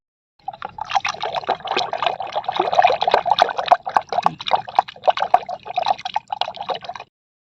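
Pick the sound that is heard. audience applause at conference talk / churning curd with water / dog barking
churning curd with water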